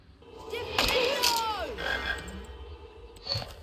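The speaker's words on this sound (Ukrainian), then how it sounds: "О боже, йди сюди, жаба." A frog croaks a few times in the Harry Potter and the Chamber of Secrets video game, close and fairly loud, alongside other game sounds.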